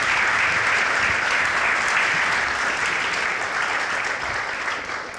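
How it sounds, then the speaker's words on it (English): Summit audience applauds the presenters after their presentation, a dense, steady wash of many hands clapping that stays loud for the whole stretch, tapering slightly near the end. "give a round of applause to Matt and Kathy"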